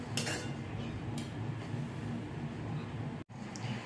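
Schezwan fried rice with coriander being stirred in a pan, with a steady wash of soft scraping and faint utensil clinks running throughout at close range.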